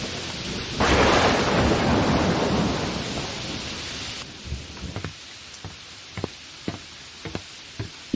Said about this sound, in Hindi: देख रहे हैं ना कितनी बारिश हो रही है।